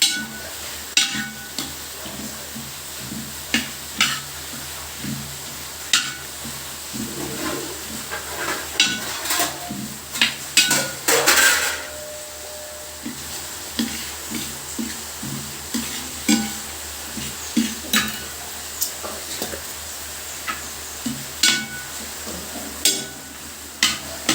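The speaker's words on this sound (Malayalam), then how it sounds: "ഇനി നമുക്ക് ചിക്കൻ കൊടുക്കാം എന്നിട്ട് കുറച്ച് ഇളക്കി കൊടുത്തിട്ട് നമുക്ക് അടച്ചു വെക്കാം" Chicken is stirred into curry in a cooking pot, with regular spoon knocks and scrapes against the pot over a soft background sizzle, and a brief louder clatter near the middle.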